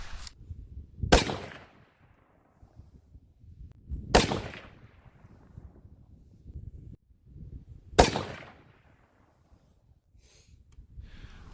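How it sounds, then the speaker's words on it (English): .243 rifle fires three sharp, loud shots spaced a few seconds apart during a ladder test, each with a short echoing tail, over quiet outdoor rumble. "let's shoot the last ladder test"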